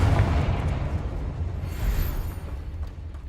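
A Confringo spell explodes in the video game Hogwarts Legacy, producing a loud, broad, rumbling blast that fills the whole clip with a sustained low roar.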